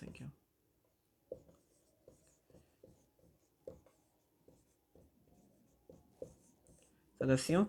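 A pen writes numbers on paper while working a class 10 math problem, making quiet close scratchy strokes in short irregular bursts, with a voice speaking near the end.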